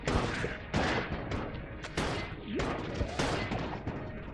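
Gunfire in Enter the Gungeon, a string of loud, sharp shots spaced unevenly about every half second, each with a bright crack and brief tail.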